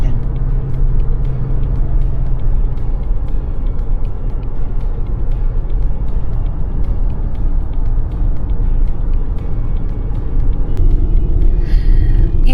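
A brand-new rental car pulls away from an airport, its steady low road and engine rumble filling the cabin without a break, with no voices over it.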